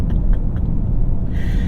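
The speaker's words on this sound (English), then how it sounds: "It's not smooth when you launch it. It's absolutely brutal." A 2021 BMW Alpina XB7 launches hard from a standstill, its engine giving a loud, steady low rumble and growing road roar, with a brighter hiss coming in near the end.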